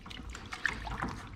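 An airless spray gun's intake tube is rinsed under hot running water, a steady trickling and splashing that runs the whole time at moderate level, with a few brief brighter clinks.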